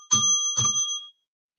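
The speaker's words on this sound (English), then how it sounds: "The bell rang." Two loud, clear bell rings on a live MMA breakdown show, each a sharp ding with a sustained ringing tone, spaced about half a second apart, then silence.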